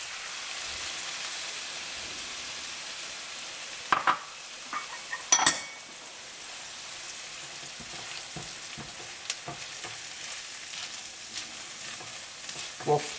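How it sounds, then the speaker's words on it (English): Tomatoes frying in a pan for a homemade palak paneer, a steady soft sizzle with a few louder clinks and scrapes of stirring around the middle, with no talking. "We'll fry the tomatoes for about a minute or two until they break down."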